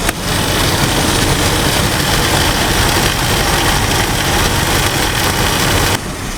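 A truck engine, running again after a new battery went in, idles loudly at close range with a dense, unbroken rumble that holds steady for about six seconds before dropping slightly in level.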